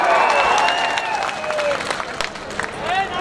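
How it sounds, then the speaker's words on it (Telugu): A large crowd claps and cheers loudly at a political rally in Sanathnagar, Hyderabad, with dense sustained applause, rising whistles and scattered shouts throughout. "గట్టిగా చప్పట్లు కొట్టి హర్షాన్ని ఆమోదం తెలియజేయాలి"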